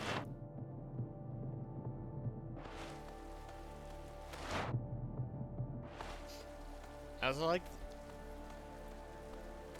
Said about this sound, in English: the rain sound they use is really good.